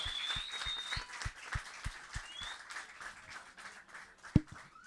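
Audience clapping for a bass player at a live music session, rhythmic claps in a steady beat with a low thump pulsing under them and a bright whistle-like tone drifting above, ending in one loud knock.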